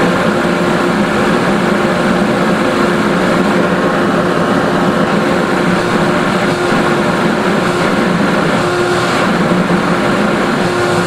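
A workshop dust collector runs on a bench grinder, giving a loud, steady motor drone with a constant whirring hum and no changes in pitch.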